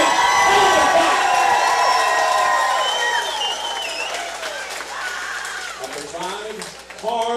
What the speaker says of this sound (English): I want you to reach deep down and make a lot of noise for these guys.